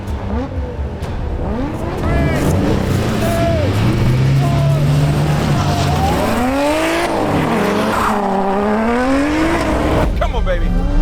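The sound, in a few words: Audi Quattro twin-turbo car launching on quarter-mile drag strip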